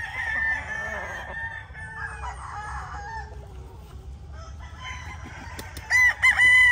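A gray, yellow-legged gamefowl rooster crows among other chickens, with a loud near crow near the end and softer fowl calls and clucks before it.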